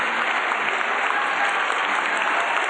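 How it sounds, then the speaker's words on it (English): Opera audience at an outdoor performance in Golden Gate Park, San Francisco, 1983, applauding and cheering for a singer: dense, continuous clapping from a large crowd, loud and steady throughout. "The audience on their feet cheering her performance"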